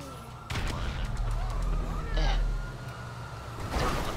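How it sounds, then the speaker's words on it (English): Semtex explosives going off during a police chase in GTA 5, with a loud low boom around the middle of the clip amid constant engine rumble, siren-like tones and gunfire bursts at the start and end, with voices talking. "We're throwing Semtex then"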